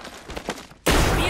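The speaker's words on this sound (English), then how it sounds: "Being shot at." Gunfire in the battle royale video game Apex Legends: a muffled stretch of thuds, then a sudden loud, sustained burst of shots near the end.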